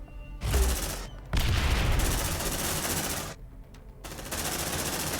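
A grenade and heavy gunfire in the video game Aliens Dark Descent: loud sustained bursts of shooting and explosions with two brief dropouts, dense and close, no talk.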